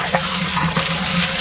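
Water rushes steadily from a potable hose in a home brew house, collected for a 10-gallon beer batch, a constant loud splashing gush close by with no voices.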